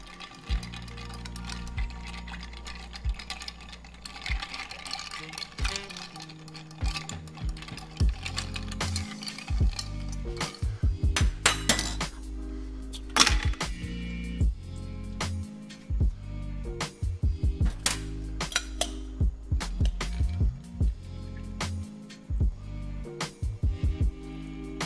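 A vermouth-based gin cocktail is stirred with ice in a glass, giving a steady run of small clinks and rattles of ice against glass that keeps a quick, irregular rhythm, close and fairly quiet, with no speech.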